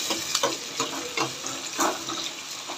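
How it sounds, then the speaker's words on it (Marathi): Onion and tomato fry in hot oil in a pan with a steady sizzle, punctuated by scraping stirring sounds close up. "बघा, टोमॅटो थोडंसं फिरून घेते"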